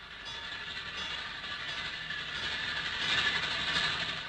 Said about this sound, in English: Sounds like a railroad crossing bell.